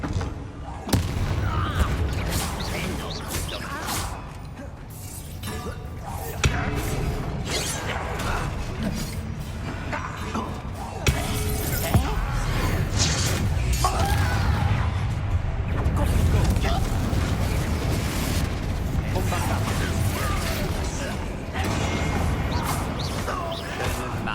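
Confringo and Bombarda spell explosions in Hogwarts Legacy: repeated booming blasts and crashes over dense game noise, with someone repeatedly speaking throughout.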